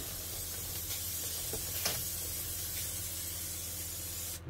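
A continuous hissing spray runs steadily from start to finish, close and fairly loud, cutting off abruptly at the very end.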